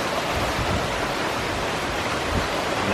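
Rainwater gushing from a new eaves trough downspout beside a porch in autumn, a close, steady rushing splash like a small waterfall, continuous and unbroken.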